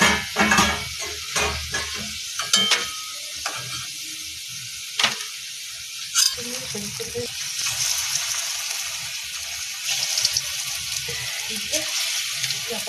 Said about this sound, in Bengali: এরকম করে কিন্তু আমি সবগুলোই ভেজে নেব